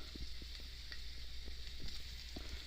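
Thinly sliced garlic cloves frying in half a cup of hot olive oil, a constant soft sizzle broken by small taps of stirring, no one speaking.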